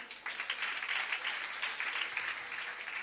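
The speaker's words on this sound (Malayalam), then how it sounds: "പ്രിയ കുഞ്ഞുങ്ങൾക്ക് നല്ലൊരു കയ്യടി" An audience at a children's church program gives a burst of steady applause, many hands clapping densely together at a moderate distance, sustained evenly throughout without talking.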